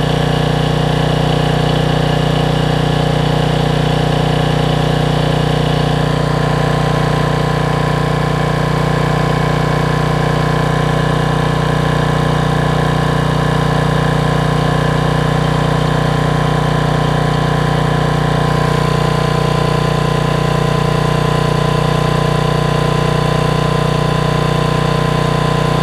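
An air-cooled generator engine runs at a steady idle in the cold, a constant low mechanical drone with faint vibration, close and unbroken throughout, with no voices.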